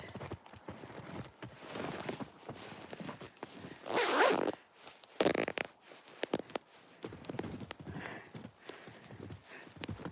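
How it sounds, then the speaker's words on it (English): A broken coat zipper rasps open in several bursts, the loudest near the middle, close and crisp against faint outdoor background. "The zipper on my coat is broken, so sometimes it unzips."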